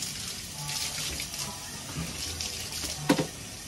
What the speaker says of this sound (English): Look at this beautiful girl taking a shower.